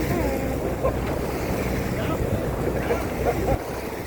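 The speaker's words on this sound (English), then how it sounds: "Speedboat, he's just riding them waves like a surfer" Water and wind rush steadily around a sailboat in the Gulf Islands as a passing speedboat's wake rocks it, with splashes and creaks under muffled voices talking.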